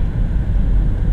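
A 2016 Chevrolet Cruze drives after new brake pads and rotors, its steady low road rumble and engine drone continuous and fairly loud, with no grinding and no voices.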